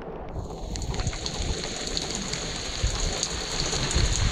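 Steady rain falling at a creek during a fishing outing, a dense continuous hiss of drops on water and surfaces, fairly loud and close, with no talking.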